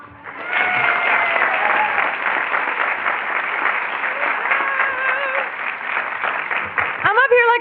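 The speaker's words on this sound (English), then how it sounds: "Let's give Tony another round of applause" Audience applause at a multicultural leadership day opening session, a steady wash of many hands clapping for a speaker, loud and sustained throughout, with a few voices rising near the end.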